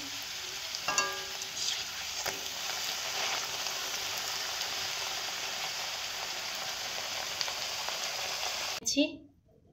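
Pea kachori frying in hot oil, a steady close sizzle and crackle running throughout with a few faint clinks, cutting off abruptly near the end.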